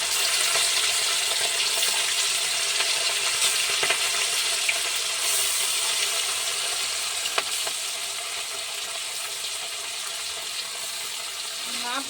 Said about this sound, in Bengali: সবগুলো ভেজে নিতে হবে আগে।